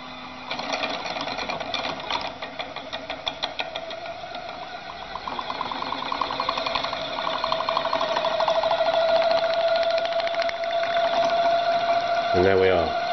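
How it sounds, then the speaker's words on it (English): Peristaltic pump motor running with a rapid rhythmic whirring that rises in pitch as the speed is dialled up, steady and close, with talking over much of it. "We can turn the pump on. We can dial the speed up a bit."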